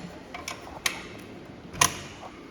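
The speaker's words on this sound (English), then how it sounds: "We'll take the 7/16 wrench and undo our fuel line." A 7/16 wrench working a fuel line fitting on a Beckett oil burner: a few faint metallic ticks and creaks, with two sharper clicks standing out against quiet background, no talking.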